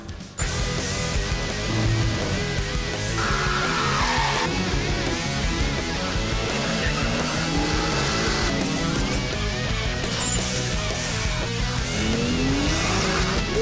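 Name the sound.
modified performance street car racing with tire squeal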